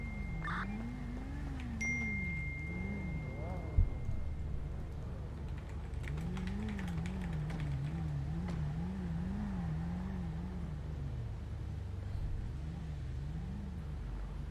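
A car engine revs and drones steadily in a GTA roleplay game, its pitch rising and falling in repeated swells throughout, with one brief sharp thump partway through.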